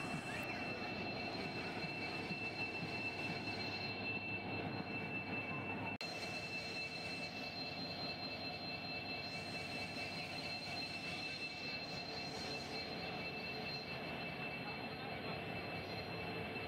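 The Rameswaram to Tambaram Express waits at the station before departure on the Pamban Bridge inauguration day. A steady, loud idling rumble and hum carries on throughout, with a faint high whine and no clear talk.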